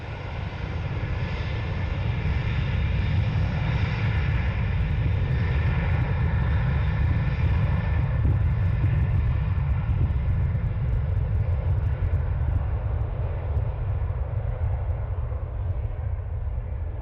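A Ryanair airliner passes at Dublin Airport, its broad, steady jet roar holding loud and close for the whole stretch with no voices over it.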